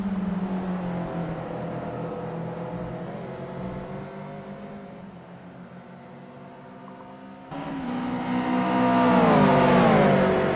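A McLaren MP4-27 race car engine in a racing video game whines steadily and loudly, its pitch dipping through the middle and then climbing in rising sweeps as the car accelerates toward the end, with no talking.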